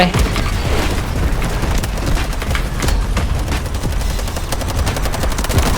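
Dense gunfire in the shooter game Delta Force, with rapid automatic bursts and booming shots crackling continuously and loudly throughout, under occasional speech.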